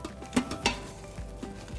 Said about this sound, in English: we're just gonna stir it all up until all the cream cheese and everything is well combined